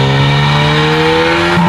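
A Nissan GTR engine revving hard: a loud, close, sustained roar with a rising tone that sweeps slightly higher toward the end, with no talk over it.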